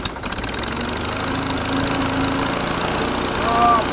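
An old gas-powered wood splitter engine sputters to life and settles into a steady, loud running rumble, with a brief spoken exclamation at the start.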